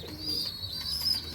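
Madras pigeon in a breeding loft, cooing softly while it feeds its chick. The coo is faint and low against a steady high background hiss.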